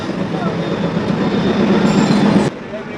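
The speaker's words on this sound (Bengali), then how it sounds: "ফরিদপুর থেকে এই মুহূর্তে আমাদের ট্রেন ছেড়ে দিছে" Nakshikantha commuter express train pulling out of Faridpur, a steady close rumble with faint wheel squeal building, then dropping sharply near the end.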